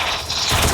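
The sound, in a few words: bomb explosion in a video game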